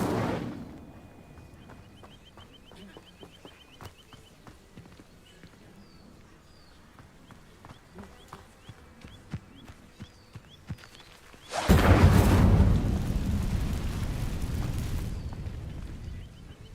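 A fire spell in the Hogwarts Legacy video game ignites dry vines with a sudden loud whooshing burst of flame that roars for several seconds after a quiet stretch of light ambient game sounds.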